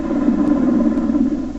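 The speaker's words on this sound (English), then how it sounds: "This is what a normal Black Hawk sounds like." A Black Hawk helicopter's steady, loud rotor and engine drone with a deep low rumble, continuous and unbroken throughout, heard close with no voices.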